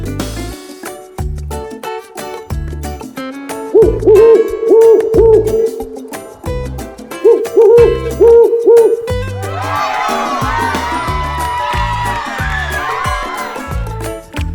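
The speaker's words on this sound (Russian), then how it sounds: "Как говорит сова?" An owl hooting in repeated phrases of clear, loud hoots over a bouncy rhythmic music track, followed by a burst of crowd-like cheering.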